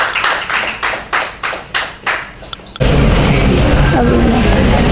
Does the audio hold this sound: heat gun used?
no